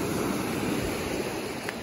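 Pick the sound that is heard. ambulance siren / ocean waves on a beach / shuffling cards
ocean waves on a beach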